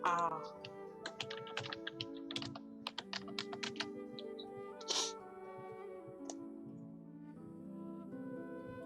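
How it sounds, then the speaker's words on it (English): Computer keyboard keys tapped in quick irregular bursts while logging in, with a pause and a few later clicks, heard over steady background music. "I'm slow at typing."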